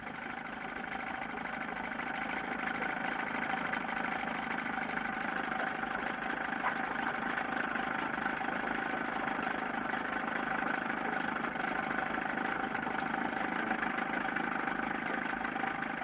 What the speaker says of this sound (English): the small outboard churning slowly